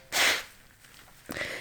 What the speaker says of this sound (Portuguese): agora estou com um espirro aqui atravessado